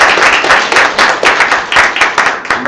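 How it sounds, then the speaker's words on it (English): An audience at a professional advanced-practice session claps for its presenters, loud close clapping in quick uneven bursts that rise and fall in waves, without talking over it. "why don't we give our presenters just a round of applause."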